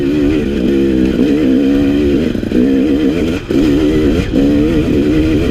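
A KTM 300 XC two-stroke dirt bike accelerates uphill in second gear, its engine loud and close, revving in rising, wavering surges with two brief dips where the throttle eases off.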